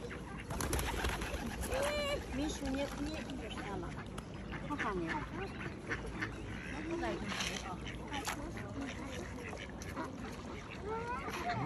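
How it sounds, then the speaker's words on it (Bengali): Ducklings quack and pigeons coo together during feeding with corn at an outdoor picnic spot, making a busy, continuous stream of calls with people talking in the background. "দেখো অনেকগুলো বাচ্চা, হাঁসের বাচ্চা কতগুলো, নিজে কবুতর।"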